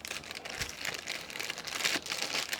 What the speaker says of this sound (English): it's got a little plastic bag in it with a few things